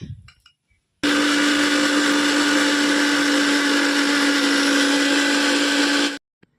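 An electric blender grinds a masala spice paste. After a quiet start, it roars up abruptly at close range, holds a loud, steady motor whine for about five seconds, then cuts off sharply.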